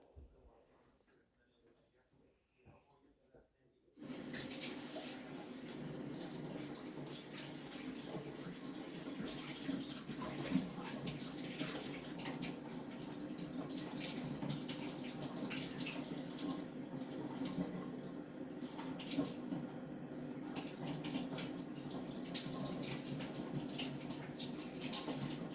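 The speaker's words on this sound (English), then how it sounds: "I'm gonna rinse this off really quick." A matcha whisk rinsed under a running tap: after a quiet start, a steady close rush of water pours continuously, with a voice speaking briefly.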